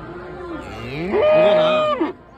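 A Jersey bull at the Pileru cattle market gives one loud, close moo lasting about two seconds, rising and wavering in pitch.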